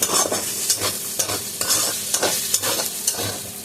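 Cumin seeds sizzle and crackle in hot oil up close, a steady hiss broken by a spoon stirring in quick, regular scrapes.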